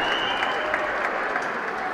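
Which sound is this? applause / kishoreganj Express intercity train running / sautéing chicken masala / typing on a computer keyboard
applause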